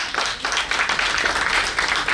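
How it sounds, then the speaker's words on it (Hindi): An audience at an award ceremony applauds in a steady, dense wash of clapping that keeps going without a break, fairly loud and close. "तालियां बजती रहनी चाहिए।"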